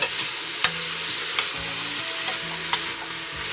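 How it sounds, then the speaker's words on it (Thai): Tomato sauce ingredients stir-fried in a pan, with a steady sizzle and repeated scraping strokes of a spatula against the pan at an irregular rhythm, close and fairly loud, with no talking. "คั่วไปจนหอมสุกเลยค่ะ"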